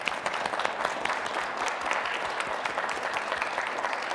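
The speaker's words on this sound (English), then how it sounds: "if you guys could please step forward so that we can applaud you" Audience at a startup launchpad competition applauding the ranked teams, a steady wash of clapping from a crowd that holds at an even level throughout, with no speech over it.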